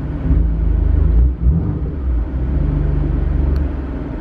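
A BMW F80 M3 rolls along in gear, heard from inside the cabin as a steady, loud low engine and road rumble that holds constant with one brief dip.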